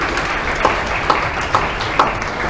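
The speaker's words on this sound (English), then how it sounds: "a huge round of applause for the organizing committee" Audience applause at a Model UN closing ceremony, a dense steady wash of many hands clapping with a few louder claps standing out, sustained and moderately loud.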